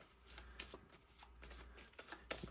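Cards for the Harry Potter Hogwarts Battle board game being shuffled by hand, a close, quiet run of rapid riffling flicks in several bursts with no talk.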